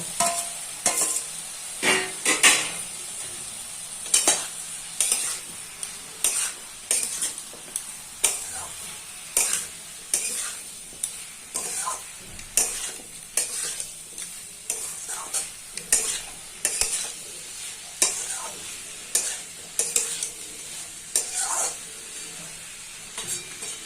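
Prawns being stirred with water and four green chillies in a pan, with a constant sizzling hiss and frequent sharp clicks and scrapes of a spoon against the pan, close and with no voices.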